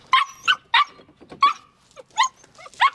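Malinois puppies barking and yipping in quick, sharp bursts, about seven close, loud yaps with high whimpering tones between them and no talking.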